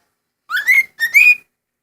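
Pet bird whistling two clear, rising two-note phrases close by, with a short gap between them and silence around.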